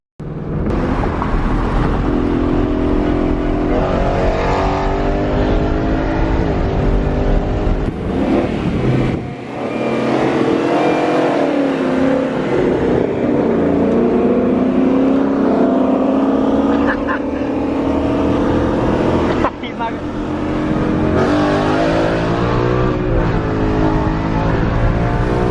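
A 2020 Shelby's engine roars loud and close, sustained revving that dips briefly mid-way and surges again, with people talking over it throughout.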